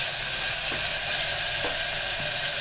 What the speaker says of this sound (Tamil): நல்லா வதங்கட்டும் தக்காளி நல்லா வதங்கணும்